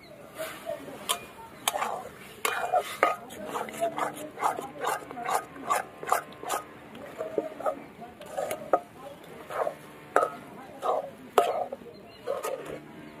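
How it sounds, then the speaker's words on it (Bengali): Rice flour being stirred into boiling water in a wok for Bengali pumpkin pitha: a run of sharp, irregular scraping clacks of a utensil against the pan, fairly close and steady throughout, with a low background hum. "এই যে ভালো করে এবার নেড়ে নেব।"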